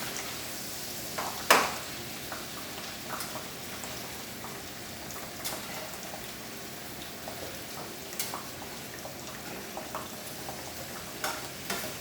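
Green onions stir-fried in a pan for a mixed vegetable stew give a soft, steady sizzle, broken by a few light utensil clicks and scrapes, with no talking.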